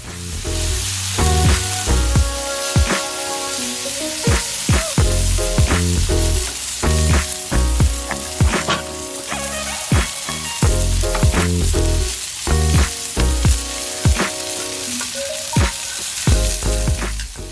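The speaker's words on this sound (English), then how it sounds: "You want to get a nice sear on that. You got to make sure that your Blackstone is nice and heated." Ribeye steak searing on a hot Blackstone griddle, a loud steady sizzle and fry close by with scraping and tapping of a utensil against the flat-top throughout.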